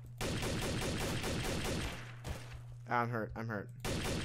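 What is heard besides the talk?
gunfire from another player in video game Garry's Mod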